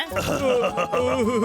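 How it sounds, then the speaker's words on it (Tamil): A cartoon character lets out a drawn-out, croaky burp with a wavering, voice-like pitch, close and fairly loud, lasting over a second. "அது ஏப்பம்பா"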